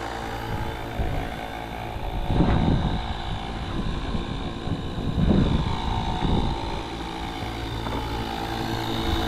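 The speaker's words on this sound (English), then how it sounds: "Right now I got my air compressors pumping up each slick" Air compressors pump up the slick rear tires of a 1990 Foxbody Mustang LX, giving a continuous motor drone with a rhythmic throb that swells every few seconds, close and fairly loud throughout.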